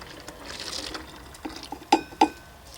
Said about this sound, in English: Pour my water in here because it's already purified.